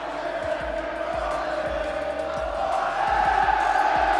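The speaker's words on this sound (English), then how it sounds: "Arena erupting for Abu Bakr." Arena crowd at a FIFAe World Cup esports event roars in a sustained, loud eruption of cheering and shouting that swells slightly toward the end, with no talk over it.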